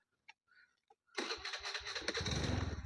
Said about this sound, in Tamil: டியோ ஸ்டார்ட் பண்ணுற பாருங்கள்